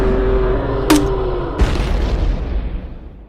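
A large grenade launcher explosion in a dinosaur animation, one sharp boom followed by a second heavy blast, with a rumbling roar that slowly fades behind it.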